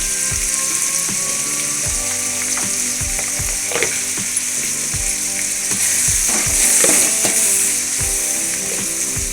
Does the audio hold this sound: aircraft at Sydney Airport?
no